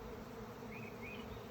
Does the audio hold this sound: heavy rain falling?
no